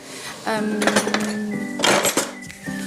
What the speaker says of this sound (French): je vais juste sortir une cuillère